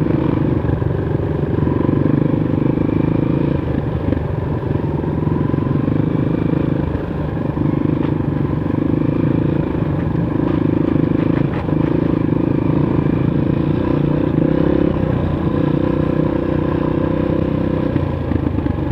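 A loud Honda CRF 230 off-road motorcycle engine drones continuously up close on a dirt track, its pitch rising and falling as the rider accelerates, with occasional rattles.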